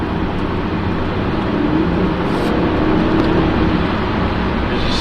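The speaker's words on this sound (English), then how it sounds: "This is a real nice engine." Audi A8 W12 6.0 D2 engine running while driving, a steady, smooth low drone of engine and road noise throughout, fairly loud and without speech.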